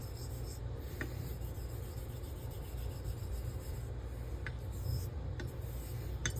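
A straight razor, a Friodur 17, is honed on an Ardennes Coticule whetstone, giving a continuous fine gritty rasping at close range with a few faint clicks scattered through, steady and unbroken, with no voices.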